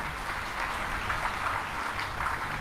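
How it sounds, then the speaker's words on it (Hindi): An audience at a spiritual discourse claps in a steady burst of applause, a dense patter of many hands heard alone at moderate loudness. "बताओ, ठाकुर जी बीमार पड़ गए, तुम ताली बजा रहे हो।"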